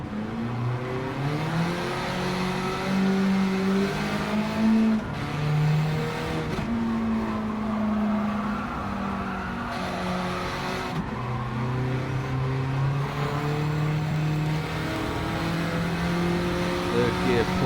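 A 1991 Honda Beat with a swapped K20 engine in Gran Turismo 7 howls through a sustained third-gear pull at Autopolis, its pitch climbing and dipping with brief lifts, while tires scrub and someone talks.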